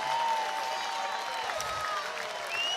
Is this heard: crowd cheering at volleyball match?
yes